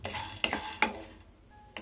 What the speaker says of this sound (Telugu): పాన్ లో కొన్ని పల్లీలు వేసుకోవాలి.